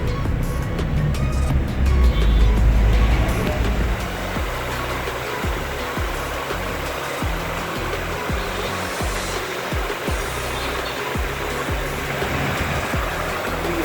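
A Honda CR-V engine idles steadily close by with the air conditioner running after an A/C pipe repair and recharge, a continuous low rumble and fan hiss with a rhythmic pulsing throb underneath.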